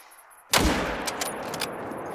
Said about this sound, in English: I'm gonna have to shoot you